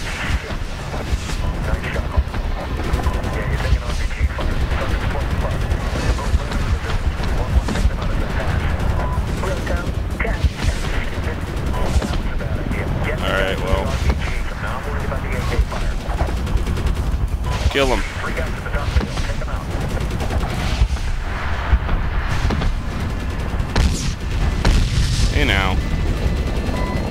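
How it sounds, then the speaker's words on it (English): Medal of Honor 2010 combat: rocket-propelled grenade blasts and dense rattling gunfire roar continuously and loudly, while players' voices talk over the din. "Yeah, you're taking RPG fire."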